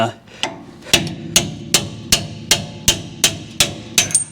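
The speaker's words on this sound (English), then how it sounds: "I'm using a pickle fork and a BFH, big freaking hammer" A big hammer strikes a pickle fork on seized brake parts of a 1982 Ford F150 in sharp metallic blows, about ten evenly spaced hits in quick steady rhythm, loud and close.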